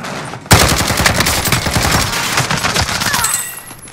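Dense gunfire erupts suddenly after a short lull in a video game firefight, a continuous barrage of overlapping shots with a loud blast at the start of the burst, sustained and close until it thins out at the end.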